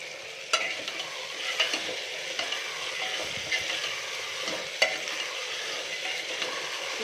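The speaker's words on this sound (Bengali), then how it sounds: "এবার নাড়াচাড়া করে দিই ভালো করে।" Chickpeas frying in spiced oil with salt are stirred in a pan, a continuous close sizzle broken by scraping spoon strokes and occasional sharper clacks, with no talk.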